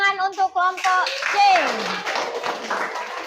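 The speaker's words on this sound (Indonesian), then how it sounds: "Kita beri dulu tepuk tangan untuk kelompok C." Classroom applause for a student group, a short burst of clapping from pupils that starts after a brief stretch of a voice and continues under lingering voices.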